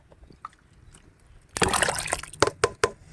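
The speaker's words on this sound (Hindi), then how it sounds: "थोड़ा सा पानी डालेंगे" About a cup of water poured into a cooking pot for rice kheer: a quiet start, then a sudden gush and splashing slosh that ends in a few distinct splashes and drips.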